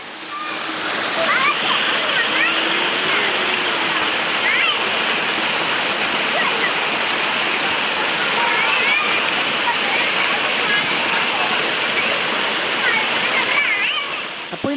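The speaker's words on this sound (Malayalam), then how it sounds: "അതിലധിക സമയവും ഞങ്ങൾ സ്പെൻഡ് ചെയ്തത് ഈ ഒരു വെള്ളച്ചാട്ടത്തിൽ തന്നെ ആയിരുന്നു." A small waterfall at Koodaranji rushes steadily and close by, a dense unbroken roar of falling and splashing water that holds level throughout.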